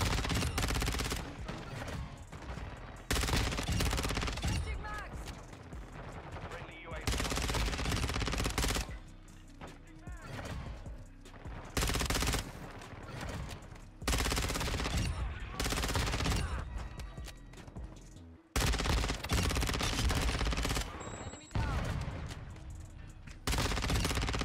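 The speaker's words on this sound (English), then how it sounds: "Machine gun." Bursts of machine gun fire from the video game Modern Warfare 2, loud and dense, in repeated sustained volleys separated by short pauses, with a voice speaking briefly now and then.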